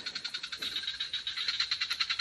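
A frog croaks outdoors in a garden where large pumpkins grow, a steady run of rapid, evenly spaced raspy pulses, fairly close and continuous with no voices.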